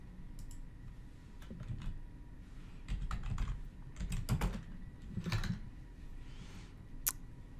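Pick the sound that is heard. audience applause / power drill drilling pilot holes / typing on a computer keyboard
typing on a computer keyboard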